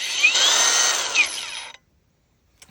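Mellif cordless angle grinder running with no blade fitted, its motor giving a steady high-pitched whine for under two seconds with a slight rise in pitch partway through, then cutting out, leaving near silence.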